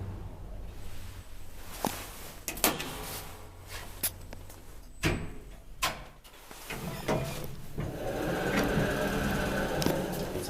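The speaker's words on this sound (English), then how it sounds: "Sounds like they opted automatic door here." The automatic door of an old Sodimas traction elevator, built in 2001 in a 12-floor building in Tampere, Finland, clunks and thumps with scattered knocks, then slides with a rising mechanical rumble, heard up close in the cab.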